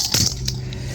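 Cooked chicken wings tossed into a pan of sticky caramelized jam sauce, giving a couple of short wet thuds and clinks against the pan, close and fairly quiet over a low kitchen hum.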